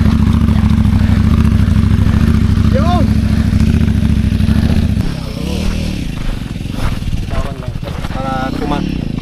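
A motorcycle engine idles and chugs steadily at low revs in the mountains during a motocross ride, a continuous close rumble, with a person talking over it.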